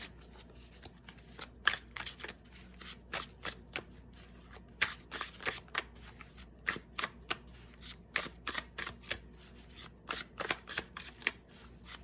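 Tarot cards for a pick-a-card reading are shuffled close by for about twelve seconds, a steady string of brisk, crisp riffles and slaps repeating in quick bursts over a quiet room.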